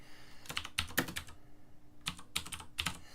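Clicky keystrokes on a computer keyboard come in two quick clusters of several presses each, close and fairly quiet, with a short pause between them and no voices.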